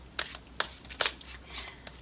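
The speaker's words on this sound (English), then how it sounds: "So let's go ahead and shuffle these cards." Tarot cards are shuffled in several quick riffling bursts, close and crisp, with short pauses between them over a low background hum.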